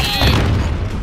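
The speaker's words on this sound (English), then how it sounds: "Oh, grenade, okay." A grenade detonates in the Call of Duty Modern Warfare campaign's Fog of War mission, a loud, close, heavy boom that rolls on with a rumbling tail, with a player's voice faintly mixed in.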